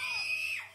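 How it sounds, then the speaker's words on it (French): A single shrill, sustained scream from a child, high and piercing, holding steady before trailing off, close and loud with nothing else around it. "Pourquoi le gamin crie sans cesse?"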